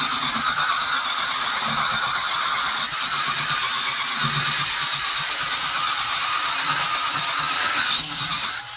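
Parrior M4L electric scrubber running at its single fixed speed, its scrub head working on kitchen grout, gives a steady, loud whirring buzz with a scrubbing hiss that holds unchanged for about nine seconds, with no talking.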